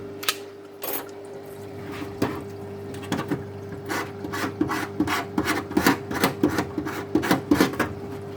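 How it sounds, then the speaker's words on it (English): The back of a Stanley blade scrapes hard tar buildup off the reed of a Paslode IM350+ nail gun in quick repeated rasping strokes. It starts sparse, then becomes a steady, close scratching rhythm over a faint background hum. "Best way is with the back of a Stanley blade, like a scraper or something, and scrape off the hard butt"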